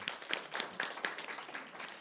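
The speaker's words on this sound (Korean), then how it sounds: "우리 하나님께 큰 영광의 박수 올려드리겠습니다." Applause from a church congregation at a Wednesday worship service, a soft, even patter of many hands clapping in a roomy hall, fairly faint and steady for about two seconds with no voices.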